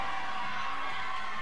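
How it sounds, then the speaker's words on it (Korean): Spectators at a U10 youth basketball game between Wonju DB and Jeonju KCC cheer and shout together, a brief, fairly faint crowd roar with children's voices mixed in. "아무래도 함성이 엄청나네요"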